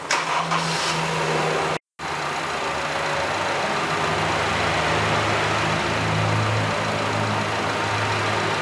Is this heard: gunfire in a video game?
no